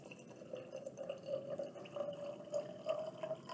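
Fifty milliliters of alcohol is poured into water in a lab container, making a faint, continuous trickling with small drips, close up and quiet.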